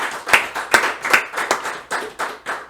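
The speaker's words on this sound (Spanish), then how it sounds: "Regálale un aplauso al Señor." A church congregation claps in a steady rhythm, about two claps per second, close and distinct, with each hit ringing slightly in the room and no one talking.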